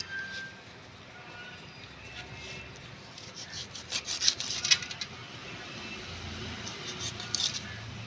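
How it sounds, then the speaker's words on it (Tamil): A knife cuts through a fish and takes off its head, giving soft rubbing and scraping strokes that grow louder in a short burst midway and again near the end over a faint background. "இப்போ உங்களுக்காக திருப்பி ஒரு தடவை மீன் கட்டி கட் பண்ணி காட்டுறாங்க"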